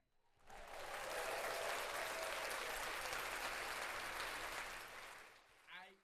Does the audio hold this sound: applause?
yes